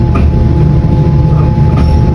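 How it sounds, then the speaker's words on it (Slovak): A train rumbles along in the distance on a rainy autumn day, a low steady rail rumble with faint clacking filling the whole moment, no voices over it. "ide vlak tam vzadu"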